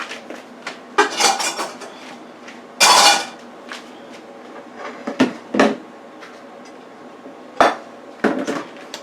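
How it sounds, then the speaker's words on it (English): Dishes and cutlery clatter and clink in a home kitchen as spaghetti and meatballs are plated, with several sharp loud knocks and scrapes close by and no talking. "let me plate up for you"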